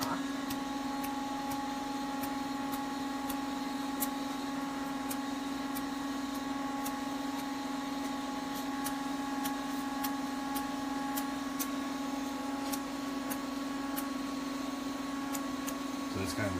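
A microdermabrasion diamond-tip suction device runs steadily at close range, a constant mechanical hum with faint periodic ticks, continuing under intermittent talk.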